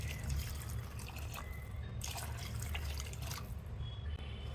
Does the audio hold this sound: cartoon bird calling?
no